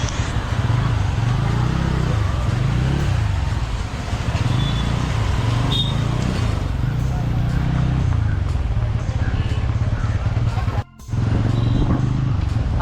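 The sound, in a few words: road traffic in Khed market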